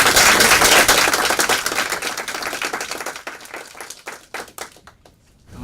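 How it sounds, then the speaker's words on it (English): Audience applause at a NASA-hosted talk, a dense burst of many hands clapping that starts loud and thins over several seconds into scattered individual claps near the end. "Round of applause."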